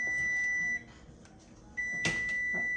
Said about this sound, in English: Oh, I forgot to turn the timer off.